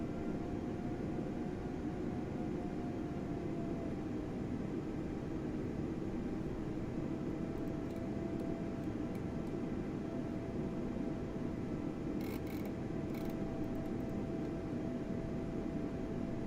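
Airbus A320neo engines idling while taxiing in Microsoft Flight Simulator 2020, a steady broadband turbine roar with a faint tonal whine, continuous and unchanging, with a few brief high clicks near the end.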